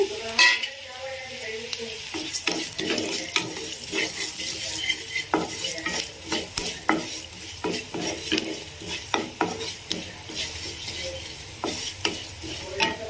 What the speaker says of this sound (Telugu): ఇప్పుడు ఇందులోనే ధనియాలు, మెంతులు, జీలకర్ర 3 వేయించుకుందాము.